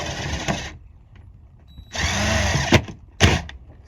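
A power drill drives a screw through a Coleman 17B friction hinge on a door, two whirring bursts of the motor separated by pauses, with sharp clicks and knocks as the screw seats.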